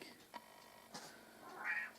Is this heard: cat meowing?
yes